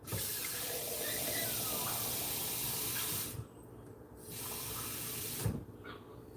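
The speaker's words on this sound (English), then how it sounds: "Fill it up with water." Water runs from a faucet into a container with a lemon half inside, a steady rushing hiss that cuts out briefly and then resumes with a clunk.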